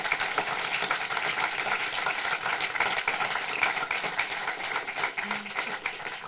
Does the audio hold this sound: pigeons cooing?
no